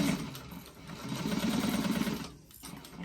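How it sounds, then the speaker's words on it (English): Sewing machine stitching a bag runs in a close, steady, rhythmic whir, briefly pausing and slowing before picking up again, with no talk. "make sure your stitch length is down again and start sewing"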